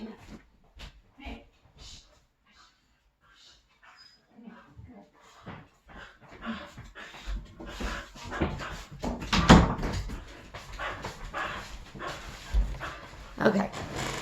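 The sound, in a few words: dog barking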